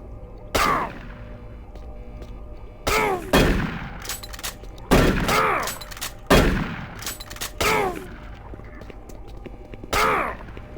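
Gunfire in the shooter game Doom 3. Loud, sharp shots come in uneven bursts, some single and some doubled, with ringing tails and quiet gaps between them.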